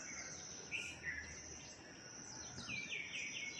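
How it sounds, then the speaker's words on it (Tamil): Various small birds call around a house, with thin chirps and short whistled phrases scattered over a steady hiss of insects, fairly distant and soft. "இப்படி ஃபுல்லாக பேர்ட்ஸ் சவுண்டாக இருக்கு பாருங்க. வேரியஸ் கைண்ட்ஸ் ஆஃப் பேர்ட்ஸ் நண்பர்களே."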